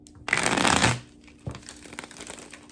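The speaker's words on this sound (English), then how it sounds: "You can ripple shuffle it nice and easily." Tarot cards are riffled in a quick burst, followed by softer shuffling and tapping as the deck is squared, close and fairly quiet.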